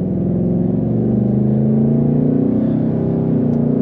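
2024 Ford Mustang GT Premium with a 5.0L V8 and automatic transmission, brand new with low mileage, accelerating gently from inside the cabin: a deep, steady engine drone that rises slowly in pitch, loud and continuous with no talk.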